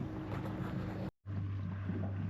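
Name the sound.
boat passing close by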